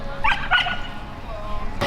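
A dog gives a couple of quick, high yips close by over faint indoor background noise.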